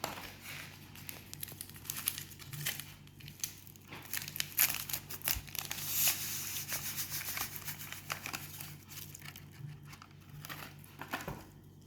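Crinkly jelly powder packets are handled and torn open in a kitchen while making a strawberry dessert, giving steady, close crackling and crumpling plastic rustles with sharp bursts throughout.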